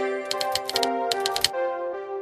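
Rapid bursts of computer keyboard typing in two short flurries, with a steady hum underneath and no voices.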